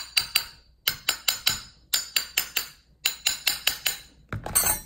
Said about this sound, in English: I like to take a hammer. Don't hit it hard, just enough to catch it.